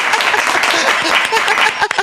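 A crowd breaks into dense, continuous applause, many hands clapping at once in a close, loud burst, with a voice heard alongside it.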